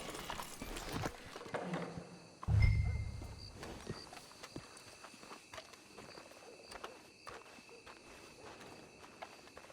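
Horses plod in Red Dead Redemption 2, with soft hoof clops and footsteps scattered across the scene, a heavy thump partway through, and a quiet outdoor backdrop.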